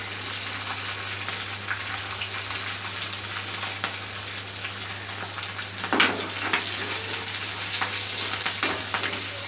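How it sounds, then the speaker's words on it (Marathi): Curry leaves, cumin and green chillies frying in hot oil in a Konkani cabbage dish, a steady dense sizzle and crackle running throughout with a brief louder spatter midway, no voices. "हे व्यवस्थित आपलं फ्राय झालं आहे"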